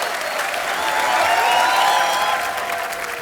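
A studio audience on The Kapil Sharma Show breaks into loud, sustained applause, a dense continuous roar of clapping that swells slightly in the middle and carries on without voices.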